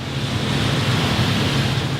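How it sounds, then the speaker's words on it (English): Hard rain pours steadily outside in Manila, a dense, even wash of noise with no breaks, close and fairly loud throughout. "I'll give you a view of this hard rain out here."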